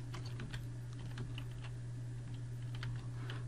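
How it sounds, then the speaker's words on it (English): Keys clatter on a computer keyboard while a JavaScript dark mode toggle is coded, steady light taps over a constant low electrical hum. "I'm going to type"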